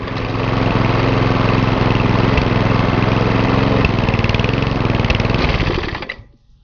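A Briggs and Stratton lawn mower engine runs steadily and loud up close, a buzzing drone for about six seconds before it abruptly cuts out and dies away.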